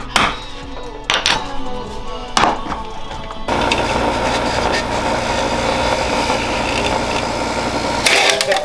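A bench grinder in a home garage during a rally car rear-end refresh spins up after a few sharp knocks and clatters, then runs as a steady, close whine with a brief clunk near the end.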